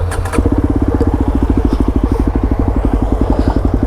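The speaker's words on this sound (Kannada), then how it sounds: "ಸೊ ಈ ಗಾಡಿ ಎಕ್ಸಾಸ್ಟ್ ನೋಡಿ ಕೇಳಿಸ್ಬಿಡ್ತೀನಿ ನೋಡ್ರಿ ಹೆಂಗೆ ಬರ್ತದೆ ಅಂತ." A 2024 Yezdi Adventure with its 333 cc liquid-cooled single-cylinder engine and the dB killer removed idles up close, giving a loud, steady, rapid thumping exhaust beat after a brief start.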